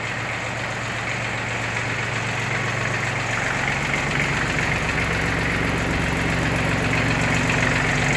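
An Iseki Geas 21 Japanese mini tractor idles nearby in a low, steady, slightly knocking drone that holds even for several seconds.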